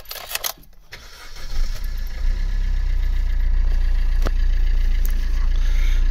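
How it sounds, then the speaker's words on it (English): A Suzuki Swift engine cranks briefly and catches, then settles into a steady, loud idle that runs on alone after a faint clatter at the start, no talking. "We'll just start it a few times."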